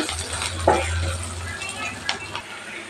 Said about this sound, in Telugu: పసుపు వేసి బాగా కలుపుకోవాలి.